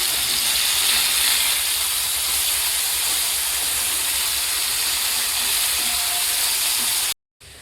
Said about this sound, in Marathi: तर आता मी मच्छी टाकते. तर बघू शकता मी आता पलटी मारते मच्छी.